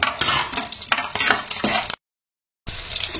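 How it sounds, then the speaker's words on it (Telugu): Garlic and green chillies fry in hot oil with mustard seeds and cumin, a close, bright continuous sizzle with spluttering crackles and a few stirring scrapes, cut by a brief silent gap before the sizzle resumes. "వెల్లుల్లి, గ్రీన్ చిల్లీ వేగే కదా"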